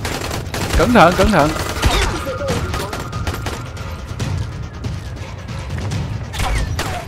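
Enemy gunfire rattles in bursts during Dying Light: The Following gameplay, sharp repeated shots mixed with game sounds and clatter, while a player speaks briefly over the action.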